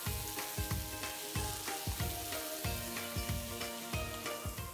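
Chopped tomato sizzles and fries in a pan for a Veracruz-style jurel fish dish, a dense steady crackle broken by regular knocks and scrapes of stirring, close and fairly loud.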